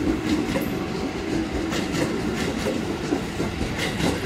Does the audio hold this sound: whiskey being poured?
no